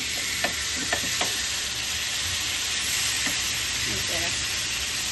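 Chicken pieces for a shawarma roll sizzle steadily in a hot pan, a continuous loud frying hiss with a few soft clicks and spatula touches, close and alone.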